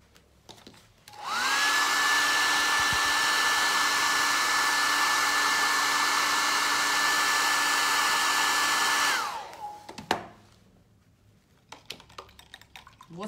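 A hair dryer runs steadily for about eight seconds, drying paint on a decorative wooden plaque, then switches off, leaving a quiet room and a brief knock.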